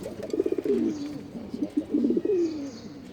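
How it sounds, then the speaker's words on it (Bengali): Doves kept at home coo softly nearby in two rolling, throaty phrases separated by a short pause, with no talking over them. "এই যে ঘুঘু, এখানে 2টা ঘুঘু ছিল, একটা ঘুঘু মারা গেছে"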